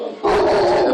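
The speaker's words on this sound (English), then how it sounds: "Sorry about my dog." Pet dog giving a single drawn-out bark or yelp indoors during a guitar lesson, loud and close, lasting most of a second.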